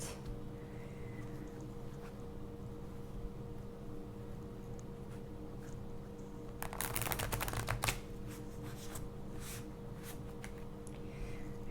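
A deck of playing cards is handled and shuffled at close range, and one brief burst of rapid riffling stands out against a quiet room hum, with soft card taps before and after it.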